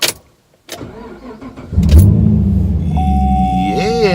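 A car engine cranks briefly, then catches and starts, settling into a loud steady rumble near the mic while a whine rises over it; it comes during repair of a crank-no-start fault with a possible blown fuse.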